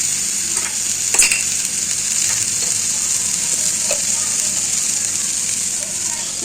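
Tomato and onion with rock salt frying in a kadai for a semi gravy, giving a steady close sizzle with occasional stirring scrapes and clinks.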